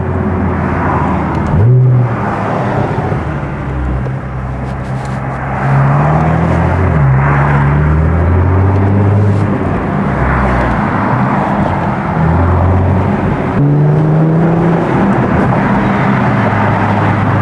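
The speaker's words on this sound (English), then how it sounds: "The intakes are also so loud." A Nissan GT-R R35's loud, steady engine and intake roar with low droning tones that swell and ease over and over, revving or cruising close by with no one talking.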